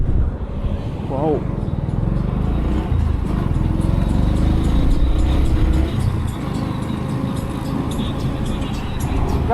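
Road vehicle engine droning steadily on the move, with traffic rumble throughout and voices talking over it along a busy roadside.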